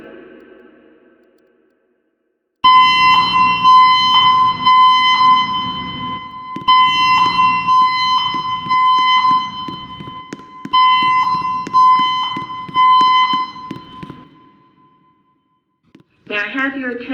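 A building fire alarm blares loudly and up close with a repeating pulsed electronic tone, sounding in rhythmic bursts for more than ten seconds before cutting off, followed by a brief electronic chime.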